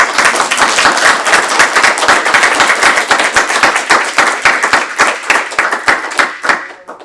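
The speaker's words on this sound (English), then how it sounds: "give a big round of applause to Yashoda" An audience gives a loud, sustained round of applause for Yashoda at a Bhakti Night gathering, dense clapping of many hands that carries on steadily for several seconds.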